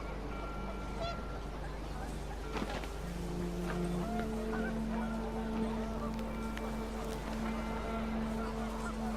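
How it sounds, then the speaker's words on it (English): Panicked geese honking in the video game What Remains of Edith Finch, a flock of repeated nasal honks over a constant windy background hum, moderately close and steady throughout. "The wind picked up and panicked geese appeared and quickly went."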